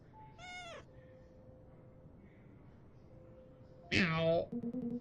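A cat meows in a video game, two clear tonal meows a few seconds apart, the second louder and longer, over a faint steady in-game hum.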